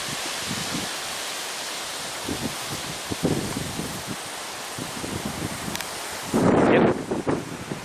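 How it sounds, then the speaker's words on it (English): Gusty wind blowing outdoors, a steady rushing hiss that swells in soft bursts and ends with a stronger, louder gust near the close, with no voices present. "Definitely getting windier."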